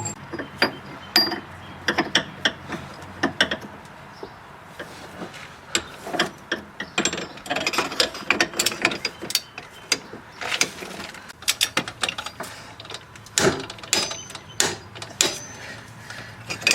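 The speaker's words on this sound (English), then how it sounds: "Now we're going to use our special tool again to tighten the new joint on." A special tool tightens a new inner tie rod joint on a 1999 Pontiac Grand Prix, making repeated close metallic ratchet clicks in irregular bursts with short pauses, and no talking.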